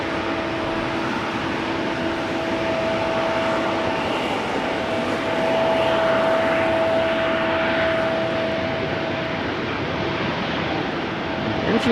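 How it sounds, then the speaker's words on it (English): A steady distant jet engine drone with a faint whine, rumbling continuously as an Embraer 175 airliner taxis somewhere off in the distance at rainy Amsterdam Schiphol Airport. "Engine sounds that we might pick up on the mic is from the Embraer 175 over here, making its way"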